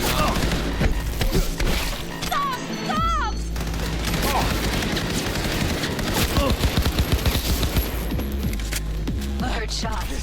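Gunfire in a Cyberpunk 2077 fight, bursts of shots and crashing impacts through a dense, busy game mix with voices talking over it.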